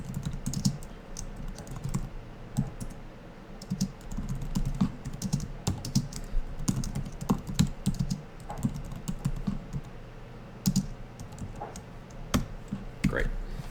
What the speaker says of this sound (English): after all that typing